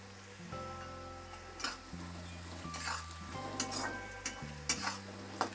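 Curry leaves, asafoetida and turmeric fry in hot oil in a pan for a spicy Maharashtrian chicken dish, giving a steady sizzle with occasional clinks and scrapes of stirring over a soft musical background.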